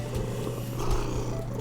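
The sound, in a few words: domestic cat purring loudly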